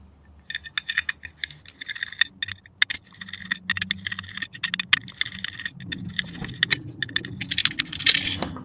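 Small screws are taken out of a hard drive while it is scrapped, giving close, quick metallic clicks, ticks and light rattles of tiny screws and tools. The clinking runs steadily and gets busier near the end.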